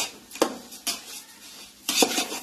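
A utensil stirring masale bhat in a metal pot, three sharp scraping clinks spaced irregularly over a quiet kitchen background, close and moderately loud.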